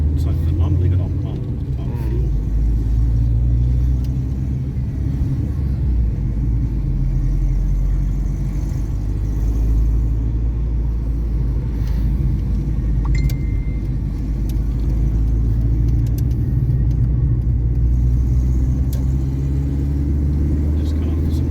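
Inside a Rover 214i from about 30 years ago while driving, a steady low engine and road rumble drones throughout, with people talking over it.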